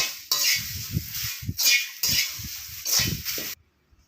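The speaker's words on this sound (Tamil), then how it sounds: "கருவேப்பிலை கருவேப்பிலை வறுத்துடலாம்" Curry leaves, coriander seeds and salt are dry-roasted in a pan for rasam powder, with close metallic scraping and clinking of a spoon in uneven strokes, then sudden silence.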